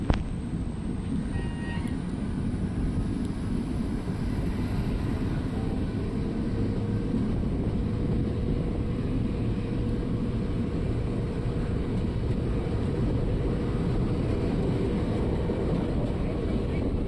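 A passenger train rolls along after pulling out of a station in Andhra Pradesh, a constant loud rumble with a faint tonal whine, heard from inside the carriage.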